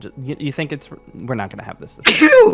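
A single loud, close sneeze bursts out right after a stretch of ordinary conversation between people, standing out sharply at the end.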